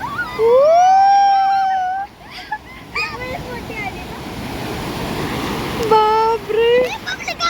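Sea waves wash steadily at Juhu beach at night, a continuous broad rushing surf, while people nearby talk loudly over the water.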